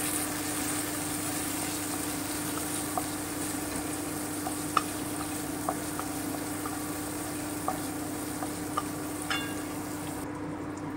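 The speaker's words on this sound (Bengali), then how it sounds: "এতে আমি কাজু কিশমিশটা ভেজে নেব।" Cashews and raisins frying in ghee in a pan, a constant low sizzling hiss with a steady hum underneath and a few faint scattered clicks, quiet and close with no talking.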